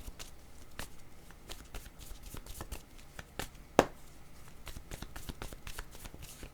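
Tarot cards shuffled and drawn by hand, a quick run of crisp papery riffles and flicks with one sharp snap partway through, close and fairly quiet.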